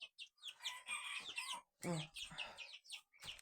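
Poultry with a turkey hen leading chicks and a couple of young chickens give rapid, close clucking and chirping calls in quick bursts, fairly faint overall, with no speech.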